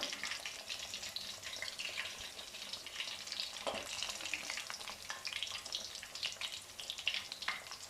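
Lahori-style crispy spiced fish fries in oil over a low flame. The crackling is steady and dense but fairly quiet, continuing unbroken with no voices.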